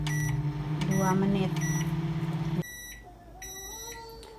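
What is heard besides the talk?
microwave oven heating water with dish soap in a bowl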